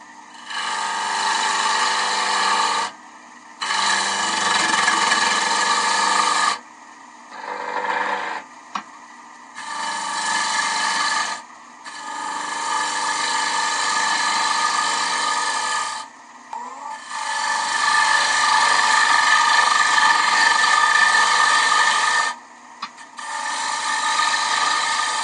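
Gouge cutting a wooden bowl on a lathe, producing loud raspy scraping passes in repeated bursts of several seconds with short quiet gaps between them.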